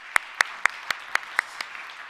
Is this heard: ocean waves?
no